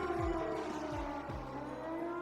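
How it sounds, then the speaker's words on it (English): A fort alarm siren in The Legend of Heroes: Trails of Cold Steel drones steadily and faintly, with repeated falling low swoops layered beneath a held tone. "it sounds like a siren. Seems to be coming from the fort."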